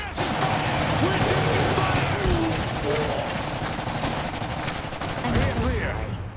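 Sustained gunfire in the video game Iron Harvest, dense bursts of automatic fire rolling continuously with shouted voices over the top.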